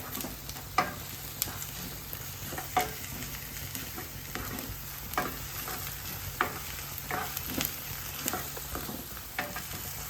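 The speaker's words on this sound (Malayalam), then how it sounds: "ഒരു table spoon ginger garlic paste ഇട്ട് കൊടുത്തിട്ടുണ്ടേ ഇതൊന്ന് മൂക്കട്ടെ" Ginger garlic paste fries in hot oil in a pan with a steady close sizzle, broken by regular spatula scrapes and taps that come in a loose rhythm.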